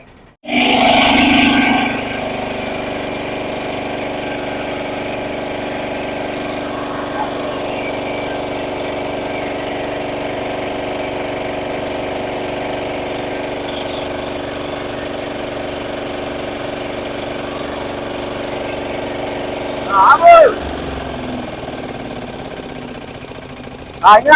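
A small Bajaj Mahima BS6 auto rickshaw engine starts with a burst, then idles with a steady, buzzing drone, ending with a few louder revs and clatter.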